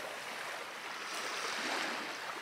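Steady broadband wash of surf rolling onto a wide, empty beach in Norway, with a soft continuous roar and light wind, no voices.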